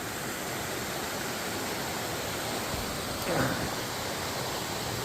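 Small waterfalls tumbling down a creek at Clarion Iron Furnace make a steady, broadband rush of falling water, constant and fairly close, with a slight swell near the end.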